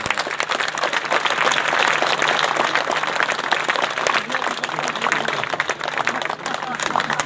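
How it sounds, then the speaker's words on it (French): Audience applauding four female contestants at a live show, steady dense clapping filling the room at an even level. "On applaudit les 4 concurrentes"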